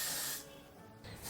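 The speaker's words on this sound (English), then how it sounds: "I'm going into the got2b glued spray to just spray on it" Two bursts of got2b Glued hairspray sprayed onto a wig cap, a loud close aerosol hiss, a pause, then a shorter second spray.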